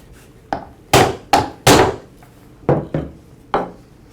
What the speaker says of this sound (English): To remove it, I'll strike the end of the shaft with a rubber mallet.